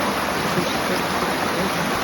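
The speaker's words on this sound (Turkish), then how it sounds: "Su sesini bu sıcaklarda iyi gider." A waterfall on a hot-weather hike in Hakkâri pours in a steady, loud, broadband rush of flowing water that stays unbroken throughout, with no voices.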